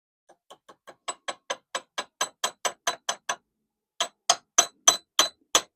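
A hammer taps a part into a seized vice in about seventeen sharp, close metallic knocks, with a short pause partway through and the blows growing louder.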